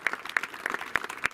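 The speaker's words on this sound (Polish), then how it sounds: "Pierwsze miejsce, słuchajcie, wielkie brawa." Applause from a crowd at a Rally Sprint Andrychów 2017 prize ceremony honouring the winners of a Fiat 126p, heard as a brief burst of steady, moderately loud clapping with sharper individual claps standing out.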